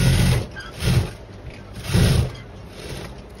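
A sewing machine stitching lace onto kameez fabric, running in short loud bursts of mechanical whirring separated by brief quieter pauses, with no talking.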